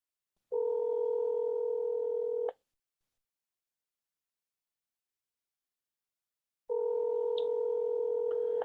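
Two long steady tones from a phone line, each a couple of seconds, separated by silence, heard through a speaker with a faint beep near the end.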